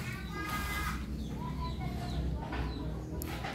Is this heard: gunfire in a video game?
no